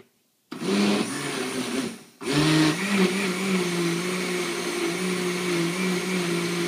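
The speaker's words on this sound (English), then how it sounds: "I'm blending it on milkshake" A blender whirs loudly up close while mixing a post-workout shake, starting after a brief silence, cutting out for a moment, then restarting and running steadily with a droning motor hum; no talking.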